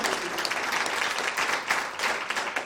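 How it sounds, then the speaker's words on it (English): A conference audience applauds continuously, a dense, even wash of many hands clapping that holds steady throughout. "You should be applauding right now."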